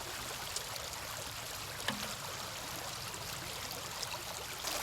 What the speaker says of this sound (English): what we finally end up with in the bucket, we just put through our sluice